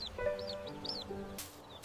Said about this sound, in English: Heungbu heard the desperate cries of the mother bird.